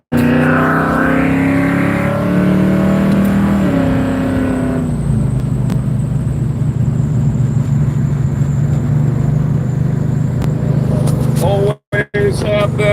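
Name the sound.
Barracuda car engine while driving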